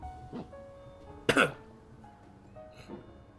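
A single harsh cough close to the mic, with a couple of fainter throat sounds before and after in a quiet room.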